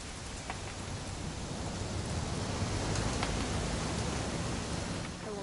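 Steady rain pours in the video game What Remains of Edith Finch, a dense, even hiss with scattered drop impacts that swells slightly in the middle, and no voices.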